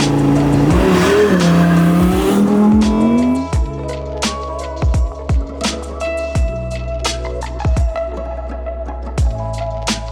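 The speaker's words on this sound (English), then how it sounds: "So let's go drive this car." A 2022 Audi R8 Coupe 5.2 FSI Performance RWD with its naturally aspirated engine revs loudly with rising tones, then settles into tire and road noise punctuated by sharp thumps from road bumps.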